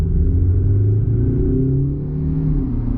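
Mercedes-Benz GLE 300d diesel engine in sport mode, a loud low rumbling drone that rises and falls in pitch as revs climb and ease, heard from inside the cabin with no talk.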